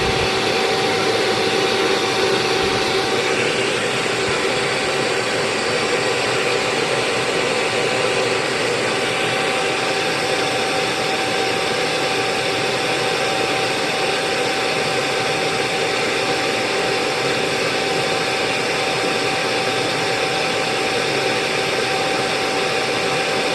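A two-speed, two-fan E2 machine runs at full tilt, a loud, steady, broadband whooshing roar with a constant motor whine, unbroken for over twenty seconds.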